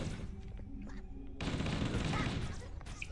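Gunfire in the video game Halo CE, a burst of rapid shots fired at close range that turns into a louder, dense stretch of firing and noise, with a player's voice briefly audible.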